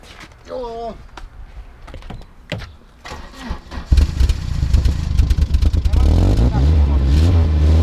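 People talk, then an engine cranks and catches about halfway through. It settles into a loud, steady rumbling idle.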